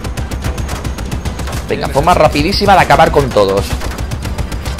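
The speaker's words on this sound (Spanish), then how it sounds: "vamos a tomar la torreta y vamos a liarnos a tiros" Mounted turret gunfire in the video game Just Cause 3 forms a rapid, steady stream of loud bursts, with a person talking excitedly in Spanish over it.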